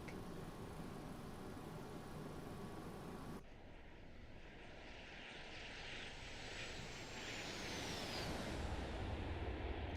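MD80 airliner engines in the X-Plane 12 flight simulator roar steadily as a loud continuous jet drone, with a high whine rising and then fading partway through.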